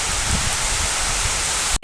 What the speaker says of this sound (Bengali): বাইরে এখন অনবরত বৃষ্টি, একদম বৃষ্টি